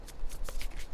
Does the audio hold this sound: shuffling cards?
yes